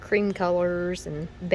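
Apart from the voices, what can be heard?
No everyday noise stands out behind the speech.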